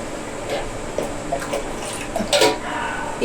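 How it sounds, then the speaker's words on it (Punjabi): Water is poured into a whisked gram flour and yogurt batter for kadhi, a light steady splashing with a few soft clinks of utensils, close and alone. "ਸੋ ਹੁਣ ਮੈਂ ਪਾ ਦੂੰਗੀ ਪਾਣੀ"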